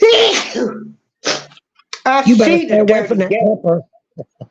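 Two sharp sneezes burst out close and loud, one immediately after the other, followed by someone talking on a talk show.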